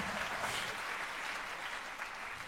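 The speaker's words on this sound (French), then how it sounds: "tu leur dis « Applaudissez-moi » et ils t'applaudissent" A studio audience of children on a French television show claps together, a fairly faint, even patter of applause lasting a couple of seconds with no talk over it.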